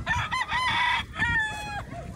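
A rooster crows close by among clucking chickens, with two or three overlapping crowing calls in quick succession.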